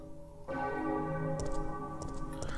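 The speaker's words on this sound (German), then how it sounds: "Auf jeden Fall die Glocken" Church bells toll in a clock tower in the video game Resident Evil 3, loud and reverberant, with several overlapping strikes ringing over a continuous humming drone.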